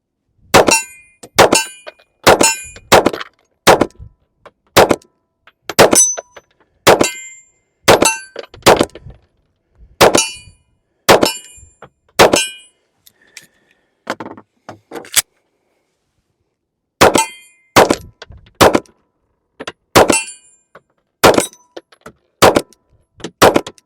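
S&W Bodyguard 2.0 pistol shots ringing off steel targets, a long series of sharp, loud bangs with metallic clangs in rapid irregular strings, pausing briefly midway before resuming.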